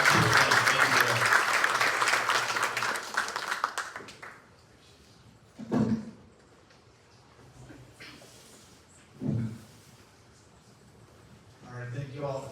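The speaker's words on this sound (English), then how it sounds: "Another round of applause for our panelists." An audience gives the panelists a full round of applause at a panel event on foster care housing. The clapping is dense and loud for about four seconds, then fades into a quiet room with a few scattered taps and thumps.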